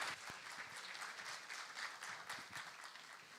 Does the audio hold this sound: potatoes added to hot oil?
no